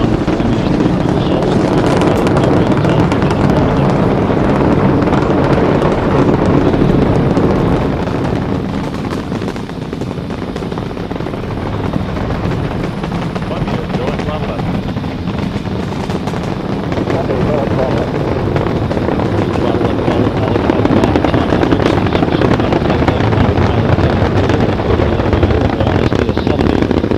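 Space Shuttle Columbia's main engines roar at full throttle during launch, a loud continuous broadband rumble that stays steady and heavy throughout.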